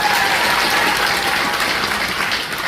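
Loud, dense applause from a school concert audience after a student flute quartet performs, a full steady roar of clapping that eases slightly near the end.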